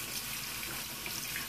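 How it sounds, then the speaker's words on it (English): A hat is held under a running tap, water streaming steadily into a sink with a continuous close hiss and splash, no voices. "I get a hat and I get it wet."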